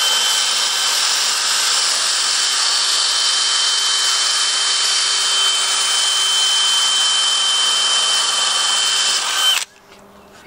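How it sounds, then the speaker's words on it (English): Power drill boring a hole through a timber frame stair joint, steady high-pitched whine held for about nine and a half seconds before stopping abruptly, loud and close with no talking. "We're just going to drill a hole"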